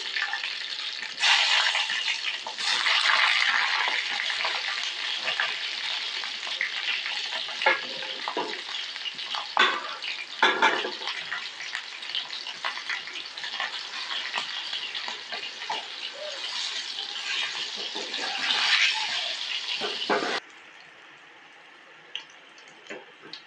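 Tadka tempering for daal sizzles in hot oil, a continuous crackling hiss with bursts of stirring and spattering that cuts off sharply near the end, leaving a quieter simmer.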